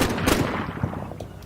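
Bursts of PK machine gun fire in a village firefight in the Combat Mission Black Sea wargame, loud and sustained, with dense overlapping gunshot rattles running through the whole stretch.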